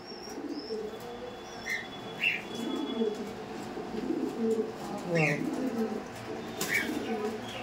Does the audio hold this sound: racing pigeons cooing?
yes